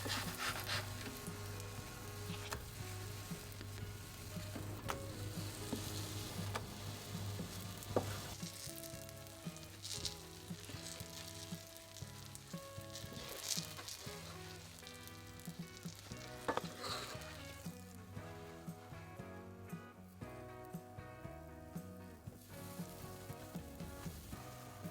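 Apple fritters fry in a pan, making a continuous, moderately loud sizzle with occasional stirring scrapes, while music plays in the background.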